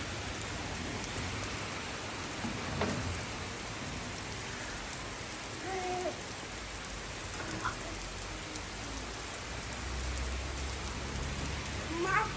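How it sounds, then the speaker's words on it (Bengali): Rain falling steadily in Italy, a continuous even hiss of drops on surfaces at moderate distance, with a few faint distant voices and no thunder. "দেখুন কত সুন্দর বৃষ্টি পড়তেছে"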